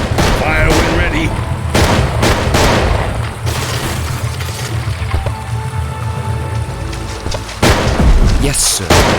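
Gunfire and explosions from the real-time strategy game Battle Realms come as loud, dense booms and rapid volleys under a rumbling battle din, with game unit voices calling out over the fighting.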